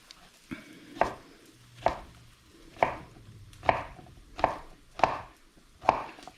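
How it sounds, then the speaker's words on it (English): Knife cutting a vegetable on a board, seven or eight distinct, evenly spaced thuds of the blade striking wood, close and fairly quiet with no voices. "Half all the way down. Half again. Half one more time. Cut that little tip off."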